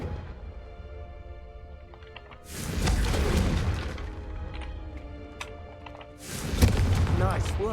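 The Confringo blast spell from Hogwarts Legacy erupts in two loud, roaring bursts with crashing debris, the second coming a few seconds after the first, under game music with voices talking.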